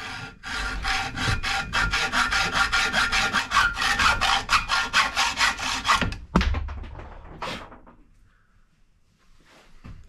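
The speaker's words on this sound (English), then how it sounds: "why are you using a hacksaw? Because it's basically just as fast as a cutoff wheel." Close, loud back-and-forth strokes of a hacksaw cut the threaded end off a Harbor Freight 1.5 ton jack's front axle, about two strokes a second, then a clunk and a few scrapes before things go quiet.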